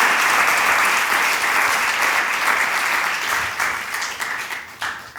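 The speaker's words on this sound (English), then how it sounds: "Please give a huge round of applause to Anson Ben." Loud, sustained audience applause at a tech careers panel discussion, dense clapping filling the room before gradually thinning out toward the end.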